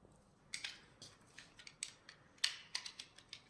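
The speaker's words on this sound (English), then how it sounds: "Carefully cut your zip ties off." Cutters snipping through plastic zip ties while changing the controller on an Orion RXB-E 12/16, a series of sharp close clicks and snaps at irregular intervals over a quiet background.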